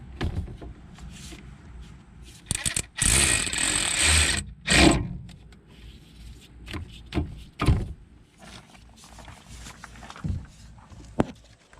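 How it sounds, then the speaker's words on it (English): A ratchet fitted with a 14 mm socket tightens the brake caliper bolts on a Nissan Rogue, giving several bursts of quick clicking with pauses between them, close by and fairly loud, along with scattered knocks and handling noises. "go ahead and use the 14 mil on the ratchet and tighten those up"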